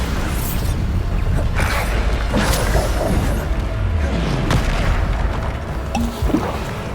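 The Bombarda explosion spell going off in the video game Hogwarts Legacy, heard as loud, continuous booming blasts and crackling bursts over dense battle noise, with repeated impacts over several seconds and no clear talking.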